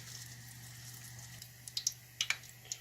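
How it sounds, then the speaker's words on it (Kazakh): Belyashi fry in hot oil over medium heat, a soft steady sizzle with sharper pops and crackles bursting out toward the end, close and fairly quiet. "Май қызыған сияқты, енді оған беляшымызды саламыз."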